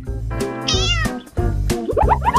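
Cartoon cat meowing during an animated drawing challenge show, several clear, close, rising meows in quick succession over a busy music-like background.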